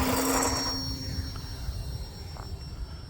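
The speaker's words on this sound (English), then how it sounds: "trying to see if I can see that helicopter. I do not see it, but I do hear it." A distant helicopter engine drones steadily in the background, fading slightly, with low rumbling hum and no talking.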